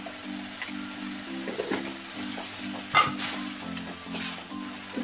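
Chopped tomatoes and onions fry and get stirred in a pan for a pasta sauce, making a soft continuous sizzle with occasional scraping and clinks over a faint background hum.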